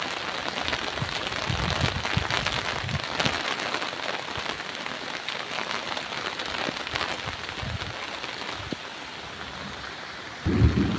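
Steady rain falling on surfaces with low rumbles of thunder underneath, a continuous wash of drops that stays even throughout and swells briefly near the end.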